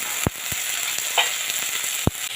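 Onions fried until reddish-brown sizzle in a pan as ginger-garlic paste goes in, making a steady close hiss broken by a few sharp utensil clacks, for a pointed gourd chicken curry.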